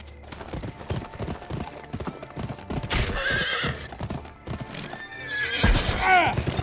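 A horse in the western video game GUN trots with steady clip-clopping hooves and lets out two loud whinnies, with talk running through the scene.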